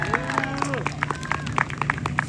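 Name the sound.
audience applause for the volunteers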